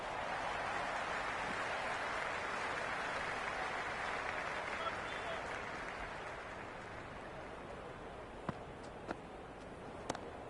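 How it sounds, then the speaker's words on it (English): Big Bash League cricket crowd at the ground during Sydney Thunder versus Sydney Sixers, a broad, steady wash of applause and cheering that slowly fades, with a few sharp claps near the end. "the crowd have joined the party. It's pretty noisy at the ground."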